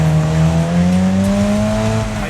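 Video game car engine droning steadily with a sustained tire squeal as it corners, loud and close, no voices over it.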